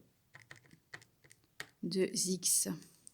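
Calculator buttons are pressed in a quick run of light taps while a polynomial is entered for a maths problem, followed by a louder, denser burst of clicking near the end.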